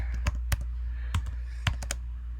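Keys tapped on a computer keyboard as a short Linux update command is entered, a handful of sharp separate clicks in an uneven rhythm over a steady low hum, close and fairly quiet.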